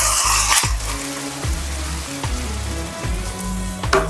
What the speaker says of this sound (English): now we're gonna drain this fat before we add in our onions